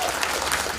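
A brief burst of audience clapping at a Hakka stir-fry cooking competition final, dense and steady for under a second.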